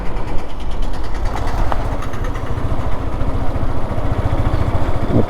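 Motorcycles and cars pass on a busy road near the Vivekananda memorial at Kanyakumari, a loud continuous engine rumble with overlapping passing vehicles close by.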